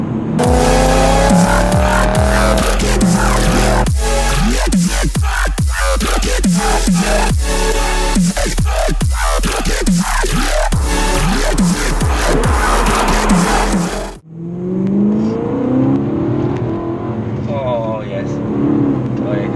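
Loud BMW E92 M3 sports car engine running, revving and accelerating, heard inside the cabin, a steady droning roar with people talking over it, then briefly quieter near the end.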